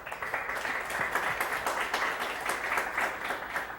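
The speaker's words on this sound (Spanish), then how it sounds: "Un fuerte aplauso, por favor." A panel audience gives a round of applause for a panelist at a political roast event in Mexico, the steady clapping moderately distant and sustained throughout.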